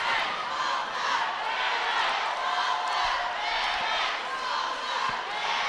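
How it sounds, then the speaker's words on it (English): Crowd noise fills a high-school state tournament basketball gym as the Bigfork cheerleaders tumble, a steady bright roar of cheering and shouting traded between both teams' sections, with a few faint thuds underneath. "Bigfork cheerleaders doing some tumbling, some cheering going on back and forth between both teams"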